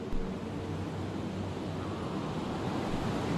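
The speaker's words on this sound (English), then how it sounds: "Spooky water noises!" Spooky water effect made by a guitar run through a synth pedal in a thrash-prog metal track, a steady washing surf-like roar with low droning tones, moderately loud and continuous with no voices.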